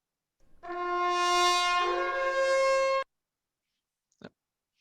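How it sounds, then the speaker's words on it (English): A Roman cornu trumpet blows one long sustained note, bright and buzzy, shifting slightly partway, then cuts off, followed by a short soft knock. "It is the Roman version of a trumpet."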